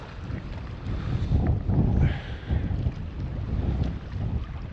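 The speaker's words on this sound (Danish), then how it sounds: "Vinden lige direkte i fjeset." Strong coastal wind at Sønderby Klint in Denmark, about 8-9 metres per second at minus one degree, buffets the microphone in a continuous low, roaring rumble with gusty surges and no voices.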